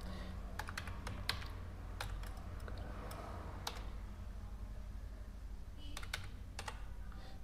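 Typing on a computer keyboard while entering a new Gmail address during Google account setup: scattered quick key taps in small clusters, close and fairly quiet over a low steady hum, with no talking.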